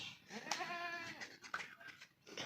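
A goat that has recently given birth, penned on a goat farm, lets out a few close, wavering bleats, one long quavering call and shorter cries, with faint farm background and no speech.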